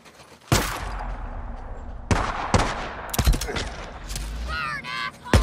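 Gunfire in Days Gone, with several sharp, loud shots and short bursts spaced across the scene, along with scattered clatter and a brief squealing sound near the end.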